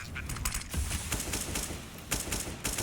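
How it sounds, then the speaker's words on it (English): Rapid bursts of AK-47 rifle fire from a Counter-Strike match on de_nuke crackle in quick automatic strings, loud and dense, with a few sharper volleys near the end. "The AKs are doing the work"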